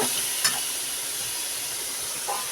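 Steady hiss of tomatoes frying in hot oil with onion, green chilli and curry leaves runs throughout, with a couple of brief clinks of a utensil against the pan.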